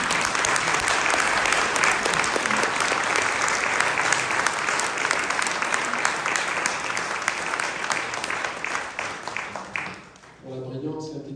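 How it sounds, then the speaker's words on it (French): A lecture hall audience in Montpellier claps warmly and continuously for around ten seconds, then the applause drops away and a voice begins speaking near the end. "Alors la première, on l'applaudit."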